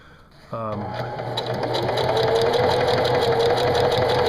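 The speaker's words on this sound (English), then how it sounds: "to reinforce the ends, do a back stitch" A sewing machine back stitches, in zigzag, the end of a DIY decoy bag, its steady fast motor whir starting abruptly and running on loud and close.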